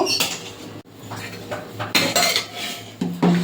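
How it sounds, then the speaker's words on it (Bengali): A spoon scraping and clinking against a metal pot as half-cooked rice is stirred in a home kitchen, with several short clattering strokes, close and fairly loud, and no talking. "ভাতটা একটু নেড়ে দেব"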